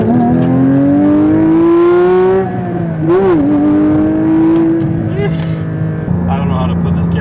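A sports car engine revs and drones while driving, a steady loud tone rising and dipping in pitch with brief surges, heard from inside the car.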